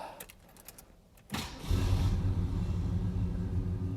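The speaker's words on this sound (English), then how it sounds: "we'll start the car up so you can hear the 390" A Ford LTD's 390 V8 cranks and fires after a quiet stretch, settling into a loud, steady idle rumble close by.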